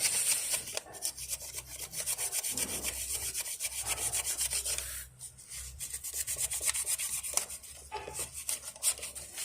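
Emery paper rubbing and rasping inside the oil filter housing of a BMW N52 engine, a steady close scraping that runs continuously with brief pauses, no talk.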